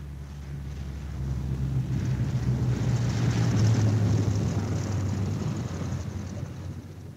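A B-17 Flying Fortress bomber comes in to land with its left inboard engine dead, a steady, heavy piston-engine drone with a deep low hum that swells slightly and holds throughout, with no talk.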